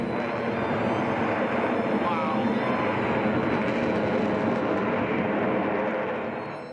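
A jet aircraft flying a loop at an air show gives off a loud, steady engine roar that stays constant and close throughout, then fades slightly at the end.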